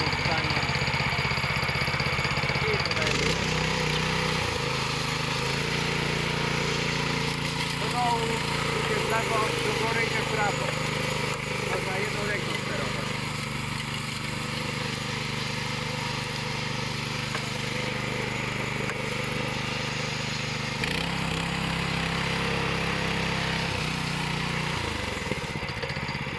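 Petrol concrete power trowel engine started on choke, then running at a steady, loud mid-pitched drone with brief pitch changes and short gaps as it settles.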